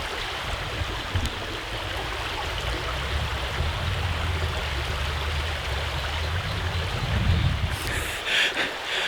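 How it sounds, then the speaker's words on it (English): A local river flows in a steady, unbroken wash of water that fills the whole stretch, with a low rumble beneath and light wind buffeting the microphone near the end. "I'm going to give you a beautiful view of a local river"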